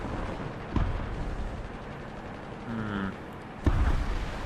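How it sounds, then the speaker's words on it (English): A ZT3A2 tank in War Thunder fires a missile, heard as two dull launch thumps a few seconds apart over steady, loud engine rumble and battlefield noise. "One more missile we need to fire off."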